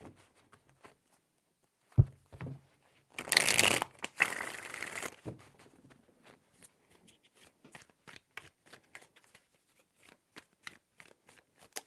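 Tarot cards being shuffled during a card reading: a brief burst of riffling and rustling, followed by scattered soft taps and handling sounds, close and quiet.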